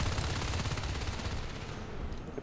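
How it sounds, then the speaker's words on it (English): Sustained rapid gunfire from a Nexzil match, a dense continuous rattle of shots that stays loud for about two seconds before easing slightly toward the end. "Just shooting the harvester all the way from pipeline while Vadasite covers Rich."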